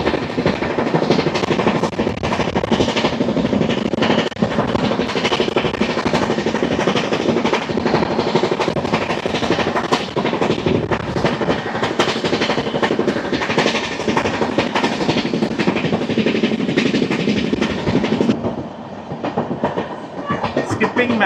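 The Gowthami Superfast Express, train 12738 from Lingampalli to Kakinada Port, runs at speed toward Samalkot: a loud, continuous rail roar with rhythmic wheel clatter, heard from on board, easing slightly toward the end.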